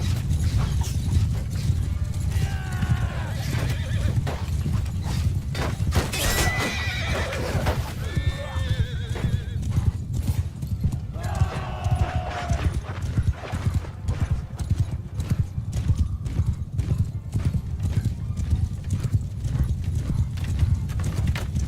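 Many hooves pound in a rapid, continuous gallop while several horses neigh and whinny over the din in Mount & Blade II: Bannerlord, loud and close, with battle clatter throughout.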